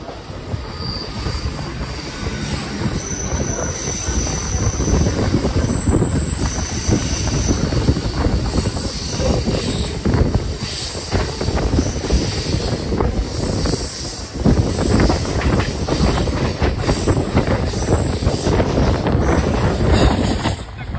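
A local train pulls out of Howrah station after a long wait at the outer signal, rumbling loudly and continuously with clattering wheels, intermittent high squeals and buffeting wind noise.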